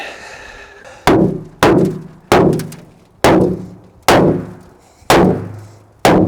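Seven loud, evenly spaced heavy blows strike a dented boat hull with a block, each bang ringing out and decaying before the next, close and without talk.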